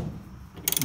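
A socket wrench ratchets on a 9/16 inch nut of a New Holland baler during chain adjustment: a short, close burst of quick clicks near the end, after a low mechanical rumble.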